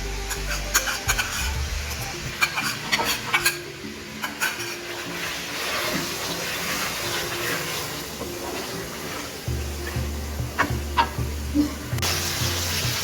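Garlic and ginger paste dropped into a hot pan with spices for a chicken liver curry, sizzling and frying steadily with clinks and stirring scrapes throughout.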